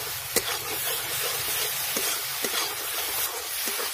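Spice masala fries in a pan with a steady hissing sizzle, while a spoon stirs and scrapes in a few soft clinks and knocks. The sound is close, with no talk.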